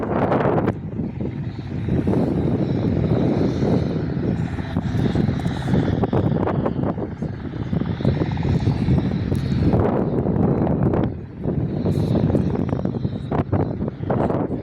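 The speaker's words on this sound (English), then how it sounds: "Air Flight Cessna C-172 does a touch and go." A Cessna 172 light aircraft doing a touch and go on a windy day produces a continuous propeller-engine drone, loud and fairly close, swelling and fading in gusty waves with wind buffeting the microphone and no talking.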